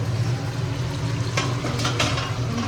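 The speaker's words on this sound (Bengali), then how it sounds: "এখানে মাংসটা কষাচ্ছি।" Meat braising in a pan, stirred with a utensil: a dense, steady sizzle and frying hiss up close, with a couple of brief scraping stirs partway through.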